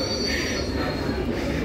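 A London Underground train arriving at a platform near West Ham, its wheels squealing loudly on the rails above a heavy continuous rumble, close and steady with no speech.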